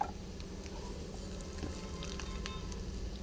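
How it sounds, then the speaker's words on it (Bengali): Leftover rice and paneer are mixed in a hot pan, giving a constant close frying sizzle with a soft, continuous scrape of stirring. "এবার ভালো করে মিক্স করে নেব"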